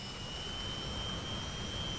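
Su-27 jet engines in the DCS World flight game run with a steady, dense roar and thin high whining tones on top, constant throughout and free of talk.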